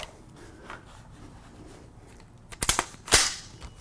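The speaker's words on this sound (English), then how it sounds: "if you charge your AR-15, you're okay. Your charging handle only goes so far back." AR-15 rifle charging handle pulled back and released, two sharp metallic clacks in quick succession near the end after a quiet stretch, close and loud, no voices.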